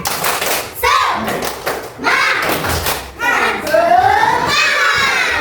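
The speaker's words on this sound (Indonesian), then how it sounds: "Oke, kita tepuk semangat." Children in a classroom perform a rhythmic spirit clap: loud, close bursts of clapping and thumping, mixed with the children's chanting and shouting voices.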